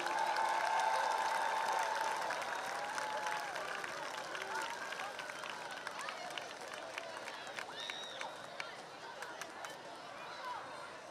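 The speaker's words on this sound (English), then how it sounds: "Let's give a big round of applause to Fire Chief Jermaine Hill." A crowd applauds at a high school football game, a broad wash of clapping and cheering that is strongest at the start and fades gradually, with talk and chatter mixed in.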